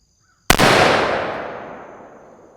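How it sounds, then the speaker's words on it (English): A Guardian Defense Manufacturing GDM556k rifle fires a single loud, unsuppressed shot. The sharp crack is followed by a long echoing tail that fades slowly. "So up first, we got the spikes unsuppressed."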